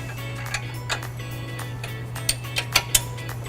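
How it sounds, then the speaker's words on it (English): A Thule bike rack is tightened with the supplied multi-tool: small metallic clicks and ratcheting ticks, close and faint, over a low steady hum, growing sharper toward the end. "Use Thule's provided multi-tool and we'll just tighten her down."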